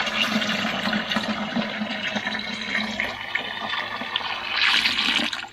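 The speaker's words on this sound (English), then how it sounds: "I'm going to put just a little more water in this" Water rushes into a bucket of turkey brine, a continuous close splashing pour that runs unbroken for several seconds and swells near the end.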